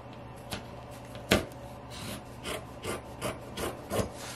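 Scissors trimming fabric seam allowance on the sides of a sewn zipper pouch, a series of soft crisp snips and rubbing cuts at close range, spaced irregularly, with no talking.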